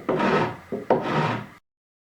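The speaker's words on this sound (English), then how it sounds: "I'm just kind of coming in with a pretty heavy rasp here and trying to get the thing to square up a little bit." A heavy rasp files a wooden tabletop square, three rough strokes in quick succession, the middle one short, scraping close and clear before stopping into silence.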